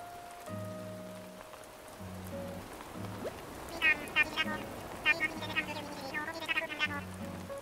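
Steady rain patters in the video game Animal Crossing: New Horizons, a constant hiss under soft, plinking game music notes and low tones that come and go.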